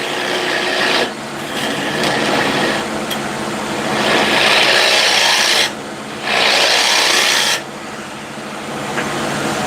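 Spindle gouge cutting spinning timber on a wood lathe, shaping it into a dome, a loud continuous scraping rasp that stops briefly twice and resumes, close up with no voices.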